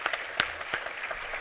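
A few distinct, fairly sharp claps from the audience at a climate symposium panel session, brief and thinning out quickly.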